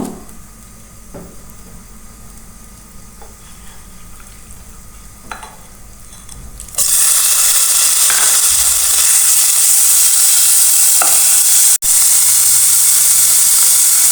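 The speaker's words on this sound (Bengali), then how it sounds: "ওয়ান স্পুন পরিমাণে আমি একটু সাদা তেল দিয়ে দিচ্ছি চিকেনটা ফ্রাই করার জন্য" Chicken hits a spoonful of hot white oil in a pan, and a quiet background jumps abruptly into a loud, steady, close sizzling hiss that continues to the end with a brief interruption.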